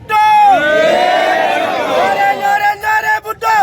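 A large political rally crowd chants slogans for Bhutto together, loud and close, in rhythmic rising calls that give way to broken shouts and cheering near the end.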